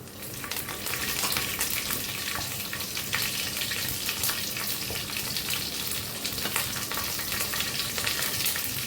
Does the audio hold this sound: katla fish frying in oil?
yes